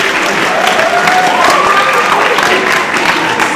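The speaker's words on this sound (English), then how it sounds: "Let's get a round of applause." Audience applause at an 8th grade awards ceremony, loud sustained clapping from a crowd filling the room, with a few faint voices mixed in.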